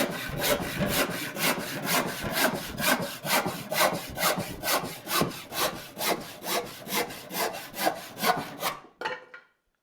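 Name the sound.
hand saw cutting through 1.5 inch thick wood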